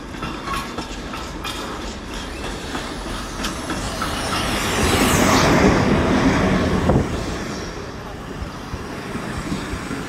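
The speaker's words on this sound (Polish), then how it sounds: "Wjeżdża TLK Konopnicka." A TLK Konopnicka passenger train pulling into Opole Główne station, heading toward Warsaw: a steady rumble of wheels and rolling stock that swells to a louder pass around the middle, then eases off.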